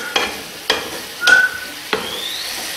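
Mushrooms and bacon frying in a pan, a soft steady sizzle punctuated by four sharp stirring scrapes against the pan, with a brief thin whistle-like squeak midway and no talking.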